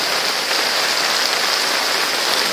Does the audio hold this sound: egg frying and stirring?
no